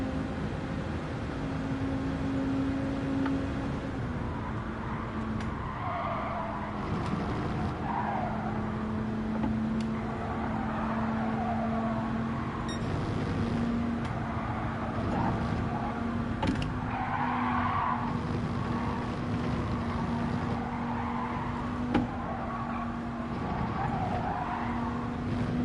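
Race cars in Gran Turismo 7 drone on with a steady engine hum and intermittent tire squeals and skids, continuous and loud throughout, no talking.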